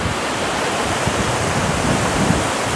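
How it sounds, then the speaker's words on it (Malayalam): Vazhvanthol waterfall in the forest, running with fairly low water, pours a steady, close, unbroken rushing hiss that holds at even loudness throughout, with no talk. "അവസാനം വാഴ്വാന്തോൽ വെള്ളച്ചാട്ടിൻ്റെ താഴെ വന്നിരിക്കുകയാണ്"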